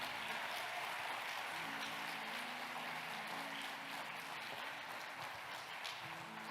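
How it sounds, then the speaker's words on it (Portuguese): Church congregation applauding during a sermon, a dense, even rush of clapping that fills the room at a fairly faint level and holds steady, with a low sustained tone underneath. "Glória a Deus, pode aplaudir."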